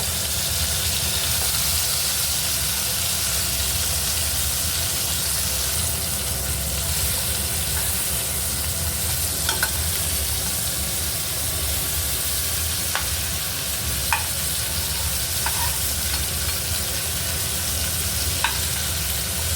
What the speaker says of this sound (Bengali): তেলের মধ্যে আমি চিংড়িগুলোকে ভেজে নেবো